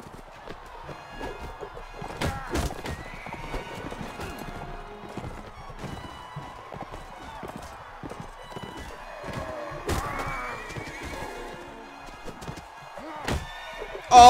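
Hoofbeats clatter at a gallop with a horse whinnying in the video game Mount and Blade with the Nova Aetas mod, accompanied by thumps and scattered game sound effects at moderate volume.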